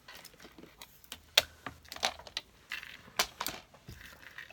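Paper being trimmed for a handmade card produces a string of short, crisp snips and rustles, a few louder cuts standing out against quieter handling noise, all nearby with no talking.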